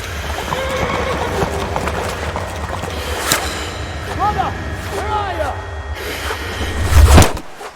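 Horse in Kingdom Come: Deliverance on a river bank, hooves pounding at a gallop with rising whinnies midway, under game voices and a strong low rumble that swells near the end.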